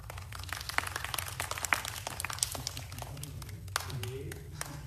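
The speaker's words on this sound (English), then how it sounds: "if you think she's a scientist, applaud really loud." Audience at a government space strategy event claps in scattered, sparse bursts with distinct individual hand claps over a low background hum and murmur.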